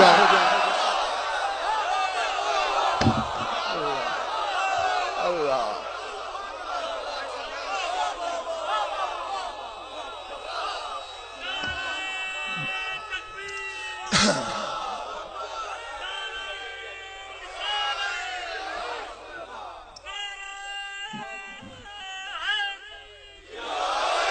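A crowd at a religious gathering on the virtues of the holy figures chants slogans in unison, loud, full-voiced and sustained, with a few sharper shouts and rising waves of voices throughout.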